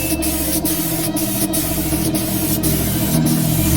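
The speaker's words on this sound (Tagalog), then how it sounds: "lapat na lapat talaga yung pintura ng buga ng ating spray gun" A spray gun lays an epoxy primer coat on a Bajaj three-wheeler body, producing a loud, steady hiss of atomized paint with short regular breaks in the spray pattern.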